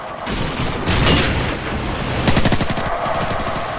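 Loud bursts of rapid gunfire blend with a helicopter's thudding rotor as it is shot down during a Call of Duty 4 multiplayer match, dense and continuous with no voices.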